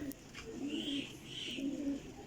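Pigeons coo in soft, rolling phrases, two main bursts over a low murmur, moderately close with no talk; these are high-quality flying pigeons of the Teddy Golden champion flier line.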